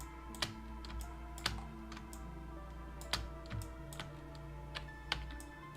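Computer keyboard typing during a pixel-art editing session, a string of sharp, spaced clicks and taps at moderate level over a steady low hum, with no talking.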